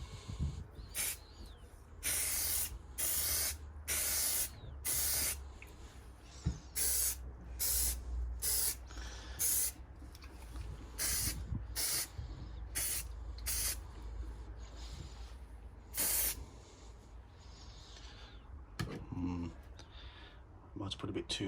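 Hammerite hammered spray paint hisses onto a 1998 GSXR 600 SRAD motorcycle fuel tank bracket in a light dusting coat: a quick run of short, close, sharp spray bursts, then a few scattered ones, with quiet gaps between.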